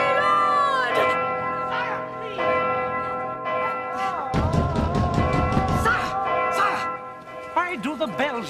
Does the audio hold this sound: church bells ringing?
yes